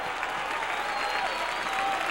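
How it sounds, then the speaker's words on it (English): A large soccer stadium crowd applauding steadily, a dense wash of clapping and cheering that holds at an even level throughout. "the fans give Hewitt a big round of applause"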